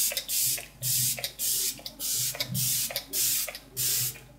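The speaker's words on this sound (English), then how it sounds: "This is Infallible Magic Setting Spray from L'Oreal." Repeated short bursts of fine mist from L'Oreal Infallible Magic Setting Spray, about eight quick pumps in a steady rhythm, close and crisp with brief gaps between.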